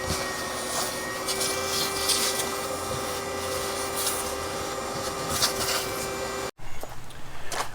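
A steady vacuum cleaner whine on car carpet in a diesel Jetta interior runs throughout, drone with a constant pitch, then cuts off abruptly near the end before a rougher suction noise resumes.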